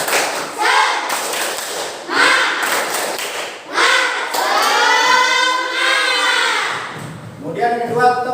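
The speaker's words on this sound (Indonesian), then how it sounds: "Mari pertama kita mulai terlebih dahulu dengan tepuk semangat" Schoolchildren in a classroom perform the tepuk semangat clapping chant, with rhythmic group claps and thumps mixed with loud chanting voices in bursts over about eight seconds.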